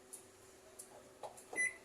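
A microwave oven control board under repair test gives short electronic beeps, faint and close, with a low steady hum beneath; a brief louder tone sounds near the end.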